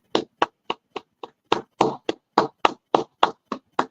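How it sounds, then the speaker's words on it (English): One person claps slowly on a morning show, about fourteen crisp, separate hand claps in a loose, uneven rhythm, close and dry, with nothing else heard around them. "I'm going to give you a round of applause."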